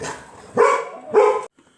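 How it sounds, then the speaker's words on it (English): Excited dogs bark up close, two loud barks following a fainter one, then the sound cuts off abruptly. "these dadgum dogs are just wild. They're going to go crazy"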